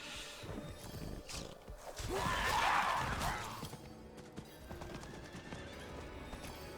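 A horse neighs loudly near the middle, surrounded by rapid galloping hoofbeats and game-like ambient noise in Diablo IV.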